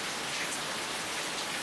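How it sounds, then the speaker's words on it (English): Steady rain patters down on a surface, a soft even hiss with no voices. "It's slippery though. It's raining."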